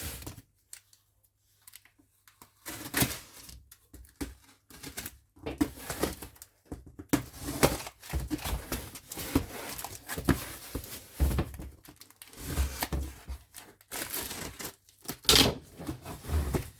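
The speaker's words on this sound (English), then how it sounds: "I think I might have to get scissors and open this up" Scissors snip and slice through tape on a cardboard subscription box, with irregular crackly cuts, rustling and handling noises close by, starting after a quiet moment and continuing in bursts.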